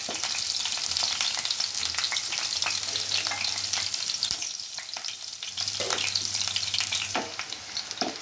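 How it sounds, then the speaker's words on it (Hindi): Garlic and green chillies fry in oil in a kadhai with a steady, bright sizzle and crackle, loud and close, broken by occasional stirring scrapes and soft low hums. "ये लहसुन और हरी मिर्च हमारी ऐसे भुन गई है।"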